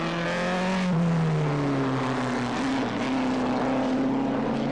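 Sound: Connaught racing car passing at Silverstone

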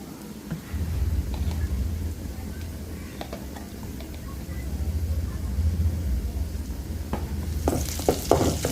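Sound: frying onions with cumin paste

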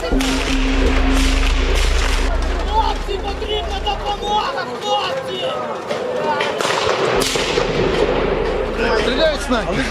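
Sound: gunshots

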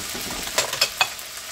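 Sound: food browning and sizzling in a pan

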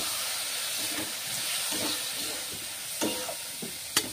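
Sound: soaked lentils frying in a pan

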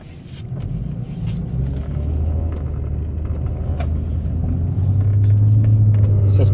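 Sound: Nissan Altima 3.5 engine running while driving after sensor change

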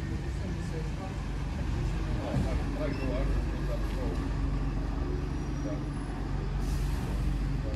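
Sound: bus driving past with air brakes

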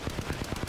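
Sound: airstrike explosions in video game Apex Legends

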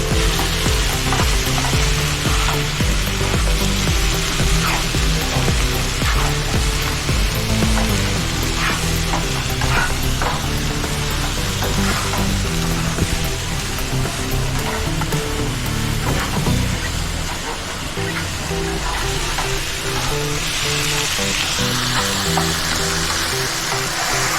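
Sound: prawn biryani masala being fried and stirred

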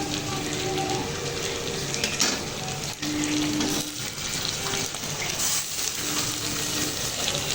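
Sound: onion and tomato sautéing in a pan

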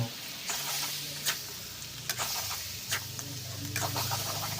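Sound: stir-frying chopped frog with curry paste

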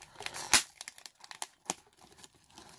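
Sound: Pokemon card booster box being torn open

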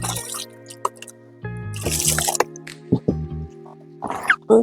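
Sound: water poured onto coir pith

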